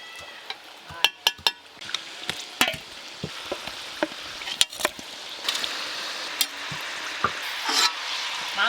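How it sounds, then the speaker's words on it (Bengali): Chicken pieces stirred and fried in a pan for a red chicken curry, with a steady close sizzle broken by frequent sharp spatula clanks and scrapes against the metal, and no talking. "বেশ খানিকক্ষণ ধরে মাংসগুলো নেড়ে নেড়ে সুন্দর করে ভেজে নিয়েছি"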